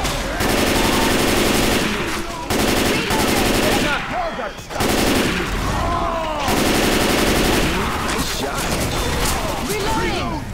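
Dense, continuous automatic gunfire and weapon bursts from a zombie shooter game, Left 4 Dead 2, firing loud and close for most of the stretch, with brief gaps and clattering impacts between volleys.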